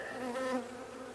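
Honey bees buzz steadily at a teaching apiary, a close, continuous drone with harmonic whine that swells briefly and then holds, with no voices.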